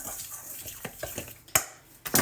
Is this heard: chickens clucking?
no